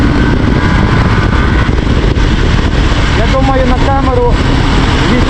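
A loud, tuned IZh Jupiter 4 motorcycle engine roars steadily uphill in winter, close and continuous, with a voice talking briefly over it near the end.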